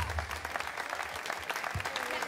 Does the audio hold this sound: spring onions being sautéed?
no